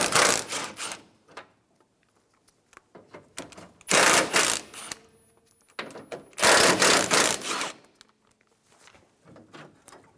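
A 10mm socket wrench loosens the three hood latch bolts on a 2005-2015 Toyota Tacoma. Close, rapid ratcheting comes in three loud bursts separated by quieter clicks and handling noise, with no talk.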